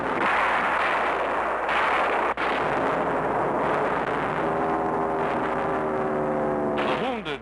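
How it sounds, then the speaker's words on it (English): Allied guns blaze away at night in 1943 wartime newsreel footage: dense, continuous heavy gunfire and booming blasts fill the scene, loud throughout, with a brief break before the barrage resumes and tonal droning rising near the end. "Attacked by night, and still Allied guns blaze defiance."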